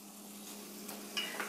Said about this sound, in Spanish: Lo voy a voltear para que a la hora de sacarlo no me agarre tanto aceite.